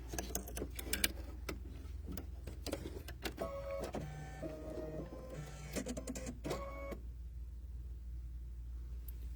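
Embroidery machine stitching a pumpkin's satin-stitch fill for an in-the-hoop potholder, with a steady mechanical hum, rapid needle clatter and whirring motor tones that shift pitch, stopping abruptly near the end; close and clear.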